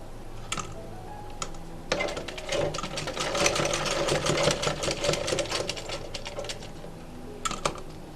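A sewing machine stitches a cloth face mask, a fast close mechanical whir of needle strokes in bursts with brief pauses and clicks between them.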